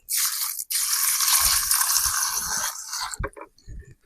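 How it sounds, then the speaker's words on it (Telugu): Small bitter gourds are washed by hand in water, a close, loud rush of splashing and sloshing broken by a brief gap, then trailing off into a few wet squishes and drips. "ఇప్పుడు వీటిని ఒకసారి నీళ్ళు పోసుకొని నీట్ గా అయితే కడుక్కుందాం"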